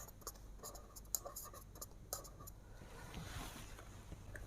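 A pen or chalk writes by hand during a math lesson, a run of short scratchy strokes in quick bursts followed by a softer rubbing stretch, close and alone without speech.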